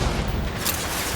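An impact shot in Mass Effect 2 lands as a single broad, roaring blast that fills the whole brief moment at steady loudness.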